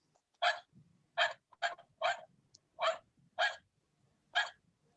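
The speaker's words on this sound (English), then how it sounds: "once we record, let's listen the sound of dog." A recorded dog barks seven times in short, evenly spaced single woofs, clear and fairly close against a quiet background.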